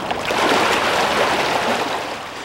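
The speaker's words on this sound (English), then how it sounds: "Listen as a huge tree slams into one houseboat." On a flooded river, a huge floating tree slams into a houseboat at its moorage, heard as a steady, loud wash of rushing water and churning debris with dull knocks and no clear talk.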